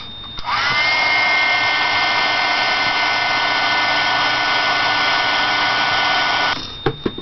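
A hair dryer drying paint on vintage craft pieces blows a loud, steady high-pitched whir for about six seconds, switched on and off with small clicks at each end, no talking.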